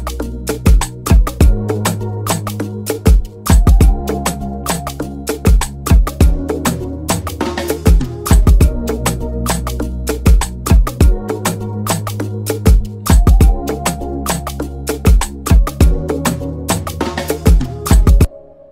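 A free Afrobeats music loop plays loud and clear, with punchy percussive hits in a steady repeating groove over sustained melodic tones, no voices over it.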